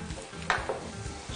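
Pastrami slices sizzling and being stirred with onions in a pan, with a short scrape of a utensil and gentle frying crackle, close and fairly quiet.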